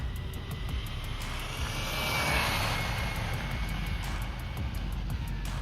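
An HBX 2997A RC truck on its stock motor and stock 45 amp ESC, running on 3s, sends a steady high electric whine and tire roar past from a short distance on a road, rising briefly as it nears and then easing away.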